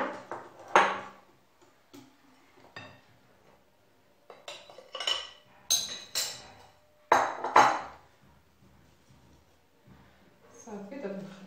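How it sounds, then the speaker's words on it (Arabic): Cake batter is stirred in a bowl, giving intermittent clinks and scrapes of a utensil against the bowl in short bursts, with quiet pauses between and a voice audible at times. "صافي، دابا نخلطها مزيان"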